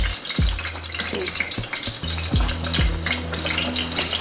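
Slices of wagashi cheese fry until golden in a pan in an Ivorian kitchen, a continuous close sizzle broken by intermittent clicks and scrapes of stirring.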